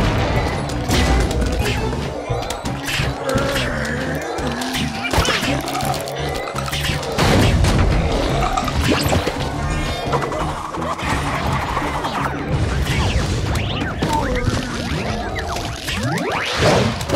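Busy Plants vs. Zombies 2 gameplay carries a missile strike explosion among rapid smashes, whooshes and thumping impacts, with a voice talking over the game noise throughout.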